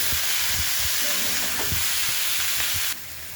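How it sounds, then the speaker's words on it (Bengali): Vegetables salted and frying in a little oil on low heat give off a steady, close sizzle. Occasional soft knocks from stirring break through, and the sizzle drops away near the end. "কম আঁচেই এগুলো নাড়তে থাকবে।"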